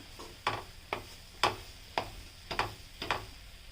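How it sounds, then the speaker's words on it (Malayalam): Vegetables and egg for a Kerala-style egg thoran sautéing in a pan over a raised flame, with a spatula striking and scraping in a steady rhythm about every half second over a faint sizzle, close by and with no talking. "ഇത്തിരി ഫ്ലെയിം കൂട്ടിയിട്ട് നമുക്ക് നന്നായി വഴറ്റിയെടുക്കണം"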